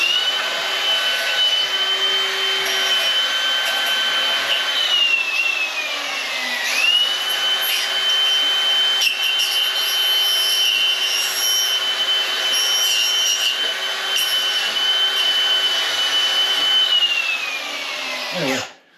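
A power tool sands cedar wood smooth with a constant high whine and a gritty rubbing sound. It runs close and steady for nearly twenty seconds and then spins down at the end.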